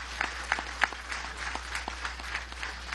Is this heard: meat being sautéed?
no